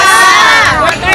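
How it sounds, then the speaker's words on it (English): Crowd of striking Kaiser nurses shouting and cheering together, a loud, dense wall of raised voices sustained throughout with a brief dip near the end. "just give you an example of the crowd here"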